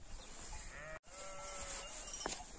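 A flock of sheep and goats being herded outdoors gives several bleats, a few close and clear and others fainter, over a constant outdoor background hiss, with no one talking.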